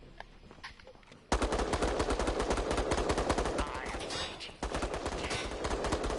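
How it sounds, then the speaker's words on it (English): Rapid gunfire from a grenade launcher turret in Resident Evil Resistance, a loud sustained burst of repeated shots that starts abruptly and continues with a brief dip partway through. "Is that a grenade launcher turret?"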